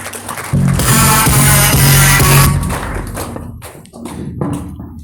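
An indoor audience breaks into loud, dense applause at a gathering, a burst of clapping that swells and then tapers off over a few seconds.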